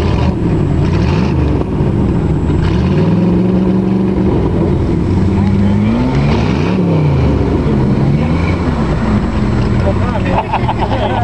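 A truck engine revs hard while pulling out a stuck truck, a loud, close, droning roar whose pitch rises and falls in repeated surges throughout.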